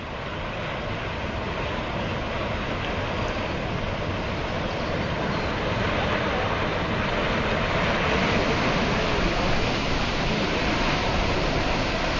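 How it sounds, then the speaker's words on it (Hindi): Flood water surging through a valley in India during a disaster, a steady, dense roar of rushing water sweeping debris along, loud and continuous with no break and no talk. "पानी का मिला जुला ये सैलाब अपने साथ जो कुछ भी आ रहा है उसे बहा कर ले जा रहा है।"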